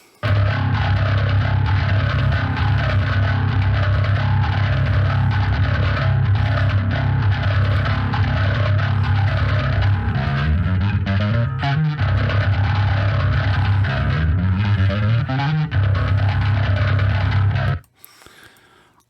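A dense, distorted metal bass guitar mix plays loud and steady for about eighteen seconds, with gritty sustained low notes, then cuts off abruptly.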